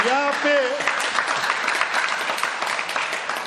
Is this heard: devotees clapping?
yes